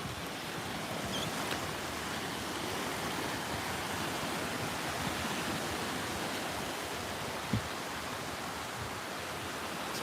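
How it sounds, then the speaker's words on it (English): Ocean waves washing onto a Florida beach, a steady broad hiss of surf without distinct breaks, moderately faint and continuous, with one brief thump partway through and no talking. "Sometimes I just let the waves talk."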